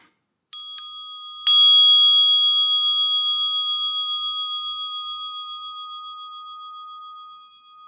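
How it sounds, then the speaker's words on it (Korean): Two light taps on a Buddhist temple bell during a ceremony at Jingwansa in Korea, then one firm strike whose clear, pure tone rings on and slowly fades for several seconds. "종소리를 들으면서 대지를 만집니다"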